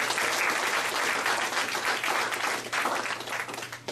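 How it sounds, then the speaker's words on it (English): An audience gives a sustained round of applause for visiting authors at a community event, dense steady clapping filling the room from start to finish. "I'd like to thank them. Give them a round of applause."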